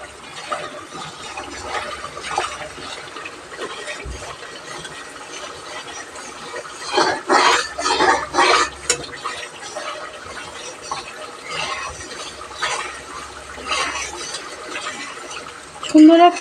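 Spice paste sizzles in hot oil with salt and sugar while being stirred in a pan, giving a steady soft frying hiss with scraping, rattling spoon strokes that bunch together in a busier stretch midway; someone talks over it.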